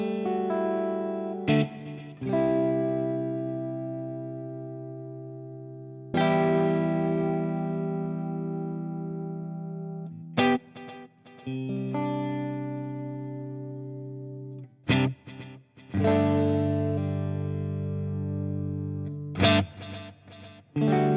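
Electric guitar played through a Line 6 POD Express modeler set to a clean tone with plate reverb: sustained chords and ringing notes in several phrases, separated by short pauses, with a reverb tail trailing each one.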